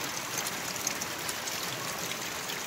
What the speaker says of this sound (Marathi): इकडे पाऊस पडतोय खूप जास्त.